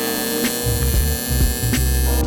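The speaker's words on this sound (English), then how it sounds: "Let's weld it." Welding on the body of a Porsche supercar during a fabrication job: short bursts of harsh electrical buzzing and throbbing hum start and stop in quick succession, close by.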